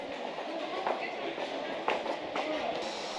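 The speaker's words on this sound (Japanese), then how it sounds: "桜木町行きの電車がホームに入線" A Keihin-Tohoku Line train bound for Sakuragicho pulls into a platform at Shinagawa Station late on New Year's Eve, a low rolling rumble with a few sharp clacks and squeaks over station ambience, moderately near and fairly quiet.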